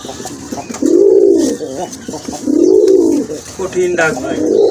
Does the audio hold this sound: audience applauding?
no